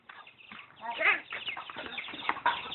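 Chickens cluck and chatter nearby in a busy, uneven stream as they are thrown feed, with people talking faintly in the background.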